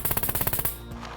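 A gun fires in the video game Scum, a quick automatic burst of about nine evenly spaced, loud close shots lasting under a second, then a short ringing tail into quiet.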